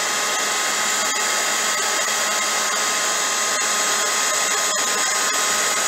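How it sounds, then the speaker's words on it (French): A heat gun blows steadily at close range while drying a patina product on a surface, a loud, constant airy roar with faint ticks and no talk. "on va sécher au heat gun pour aller plus vite"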